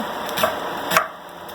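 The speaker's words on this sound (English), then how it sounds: "And then we're going to start chopping." Squash, tomatoes and onions being chopped for canning: two distinct knife strikes on a cutting board, spaced about half a second apart, close and clear with no talking.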